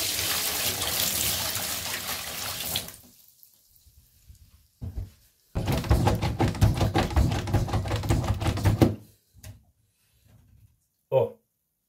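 Water from a bathroom sink drain that has just been cleaned. It runs in two bursts, a steady rush at the start and a rougher gurgling flow in the middle, separated by quiet gaps with a few small clicks and drips.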